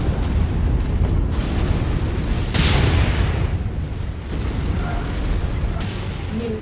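A missile explosion from the MechWarrior 5 battle lands as a loud booming blast with a crackling rumble that decays over a couple of seconds, amid continuous heavy mech combat noise and a few sharper impacts.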